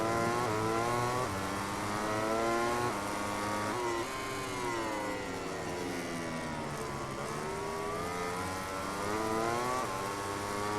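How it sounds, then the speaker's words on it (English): A Ducati racing motorcycle from the game MotoGP 18, its engine a continuous high buzzing whine that rises and falls with the throttle and gear changes throughout. "I can still hear that Ducati behind."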